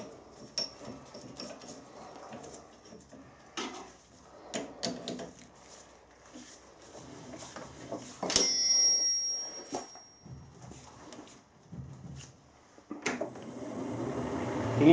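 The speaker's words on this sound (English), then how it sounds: "You can hear it rubbing, but it's not too tight." A Lister trolley wheel with freshly greased bearings is turned by hand in a workshop, giving faint intermittent rubbing, scraping and clicks with a few sharper knocks and a brief metallic ring.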